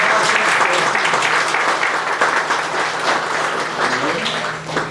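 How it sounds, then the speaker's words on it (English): Audience at a community breakfast event applauds honorees, a loud, dense, continuous round of clapping that eases slightly toward the end, with some voices murmuring underneath. "let's give them a round of applause."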